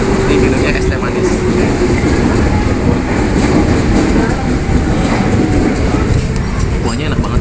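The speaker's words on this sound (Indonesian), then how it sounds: "bentar lagi kereta lewat itu" A train passes close by, filling the air with a loud, unbroken rumble and rattling clatter of wheels and cars that holds steady throughout.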